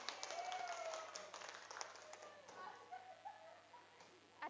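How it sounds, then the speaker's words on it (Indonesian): Classroom applause from a group of students, a brief burst of scattered clapping that is fairly quiet and quickly fades. "Oke, tepuk tangan buat semuanya."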